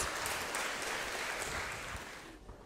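A large crowd applauds steadily at a music school's end-of-year concert, dense clapping filling a reverberant concert hall, fading slightly at the close.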